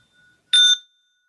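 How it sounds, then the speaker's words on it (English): A single bright ding of a small bell at the close of a meditation practice, clear and close, ringing briefly before fading quickly into silence. "I'll ring my little bell."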